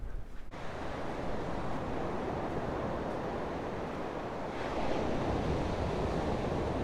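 Strong wind and crashing surf at Drake's Beach, a continuous loud roar of waves with gusty wind buffeting the microphone, swelling slightly near the end, no voices.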